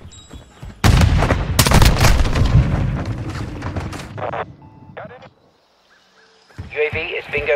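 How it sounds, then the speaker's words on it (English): In Call of Duty Modern Warfare II multiplayer, a loud grenade blast opens a close burst of heavy gunfire and booms. The noise then thins to sparse shots, falls briefly quiet, and gives way to voices talking. "Throwing grenade!"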